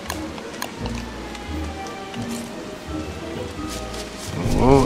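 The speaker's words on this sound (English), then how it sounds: "Here comes the rain." Steady rain falls in the video game Don't Starve, a soft continuous hiss with faint rumbling beneath and a louder swell near the end, while game sounds and music continue alongside.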